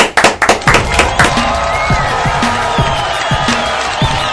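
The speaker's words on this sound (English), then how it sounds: "give yourselves a round of applause" A burst of clapping and cheering from a crowd, dense at first, then thinning into scattered claps under a bright, whistling backdrop.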